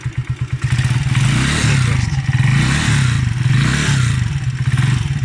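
A Huonaio HN 125-8 125cc motorcycle engine idles and revs steadily, a loud close low putter with a few short blips at the start before settling into a continuous running drone.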